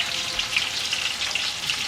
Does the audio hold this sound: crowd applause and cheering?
no